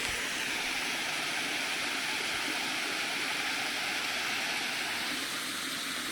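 Water tumbles steadily over a waterfall feeding a chain of staggered pools in wilderness, a loud, close, unbroken rushing roar with no talk.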